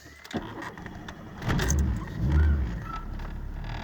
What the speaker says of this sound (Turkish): Evet şimdi benzinde direkt marşa basıyorum.